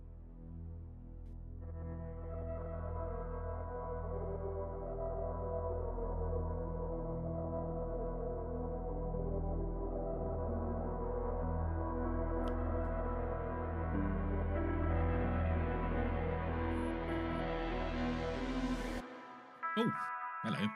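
A heavy prog-metal song plays steadily at full volume for nearly twenty seconds, then cuts off abruptly as a voice briefly begins speaking.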